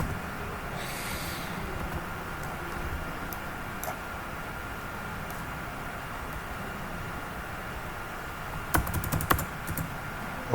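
Soft, scattered clicks of a computer keyboard are heard during a Windows software install, with faint irregular keystrokes and a brief quick burst of clatter near the end.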